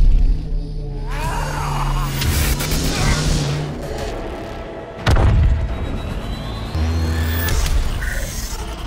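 A huge explosion from the film Higher Power: a sudden deep boom erupts midway through a tense, rumbling film soundtrack of mechanical creaks and whooshes, loud and close.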